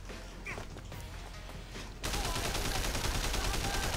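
Gunfire in the video game Triad Wars: quiet shuffling and faint shots, then a sudden dense burst of rapid automatic fire for the last two seconds.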